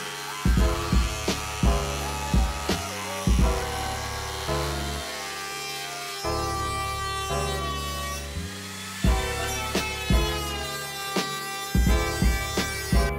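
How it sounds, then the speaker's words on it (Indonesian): An angle grinder cuts the front fender of a Honda CRF150L motorcycle: a steady high motor whine broken by repeated harsh bursts as the disc bites in, close and uninterrupted by speech. "lanjut kita proses pemotongan dengan gerinda"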